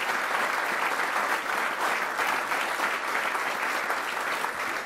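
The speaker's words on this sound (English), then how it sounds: "So if we could give a great round of applause to the Vice President," Sustained applause from a large audience at a governors' ball for the Vice President and Karen Pence, a dense, steady wash of clapping that holds evenly loud throughout.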